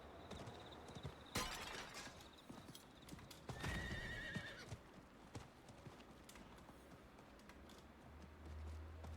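Roach, a horse mount in Diablo 4, gallops with quick rhythmic hoofbeats, sharp crashes of something shattering, and a brief whinny, all fairly close against a quiet game backdrop.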